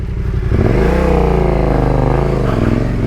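A Yamaha Tenere 700 adventure motorcycle revs off-road on a rocky river track, its engine rising to a loud, sustained, throbbing growl while spinning around, close up with no talking.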